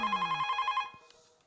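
A telephone rings with a rapid trilling bell that warbles briefly, then stops, leaving a faint fading hum and a soft click.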